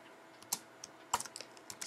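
Light, sparse keystrokes on a computer keyboard, a few quick clicks followed by a short cluster of taps, faint and close with no talk.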